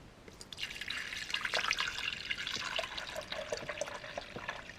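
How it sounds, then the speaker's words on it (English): A litre of water pours and splashes into a container for mixing xanthan gum, a gurgling, trickling stream that swells and continues steadily at moderate volume. "So let's add a litre of water."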